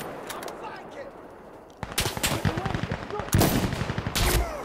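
Gunfire in a tactical first-person shooter video game on console: sharp bursts of rapid automatic shots, near and loud, with a quieter lead-in before heavy volleys and some faint voice chatter underneath.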